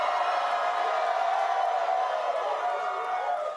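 A large Comic-Con audience at San Diego roars with sustained cheering and whooping, a dense, steady wall of crowd noise that stays loud for the whole stretch without easing.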